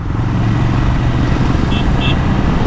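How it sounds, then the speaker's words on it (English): A Ducati Scrambler motorcycle riding on the road during a clutchless downshift, a loud steady engine drone with wind noise and a couple of brief high tones. "Let's see clutchless downshifting."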